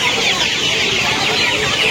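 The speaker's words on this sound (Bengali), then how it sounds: "অস্ট্রেলিয়ান মুরগি আছে" Australian chickens cluck in a crowded poultry market at Uluberia, Howrah, a dense, loud wash of overlapping bird calls and crowd noise with no clear gaps.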